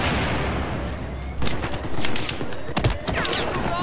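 Gunfire in the video game Battlefield 4 comes as loud, dense bursts of shots and crackling impacts, rolling almost continuously over a few seconds with sharper cracks standing out.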